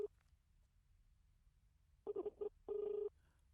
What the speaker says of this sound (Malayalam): സാർ റിങ് പോകുന്നുണ്ട്